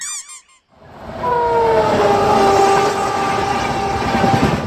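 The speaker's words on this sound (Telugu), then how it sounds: "ఒరే ట్రైన్ రా" A train passes close by in a rush of loud, sustained rumbling and rattling that swells after a brief opening of other sound, with a long tonal horn-like whine running through it.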